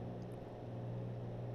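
Steady low engine drone from a Cirrus SR22 single-engine plane in the X-Plane 11 flight simulator, a continuous even hum with a strong low tone, fairly quiet and with no talk.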